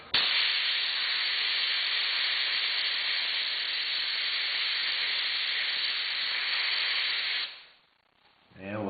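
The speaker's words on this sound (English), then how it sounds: "And blow it off with air." Loud, steady hiss of compressed air blowing off a freshly cleaned wheel axle for about seven seconds, cutting off abruptly before a brief voice.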